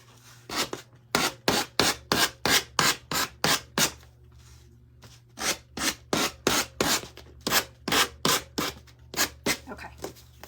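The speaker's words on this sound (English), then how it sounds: "Let me just sand off these little edges." Edges of Dollar Tree picture frames being sanded by hand, a steady rhythm of short rasping strokes in two runs with a brief pause between, close and clear over a low hum.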